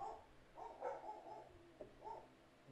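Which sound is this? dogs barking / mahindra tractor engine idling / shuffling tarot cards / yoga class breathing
dogs barking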